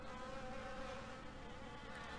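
Bees buzz in the video game Amber: Journeys Beyond, a faint, steady droning hum that holds without a break and with no voices.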